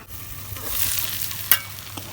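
Beef and jackfruit seeds fried with spices are stirred in a pan, giving a soft, steady sizzle with a few scraping strokes from the spoon and one brief sharp clink partway through.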